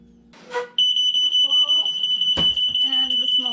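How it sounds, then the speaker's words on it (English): A household smoke detector in a kitchen, where eggs are being cooked on bread, starts a loud, steady high-pitched beep that holds continuously while people talk over it. "And the smoke detector goes off."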